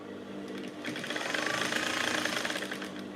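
A sewing machine stitching an off-shoulder blouse, a steady rapid mechanical chatter that starts moderate and then speeds up into a dense, even whir, heard close and alone.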